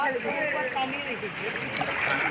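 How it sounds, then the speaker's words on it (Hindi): Floodwater sloshes and gurgles steadily as a vehicle wades through it along a flooded village road, a continuous rushing wash with voices talking faintly over it. "अभी हम लोग को इतना पानी में हेल कर जाना पड़ रहा है"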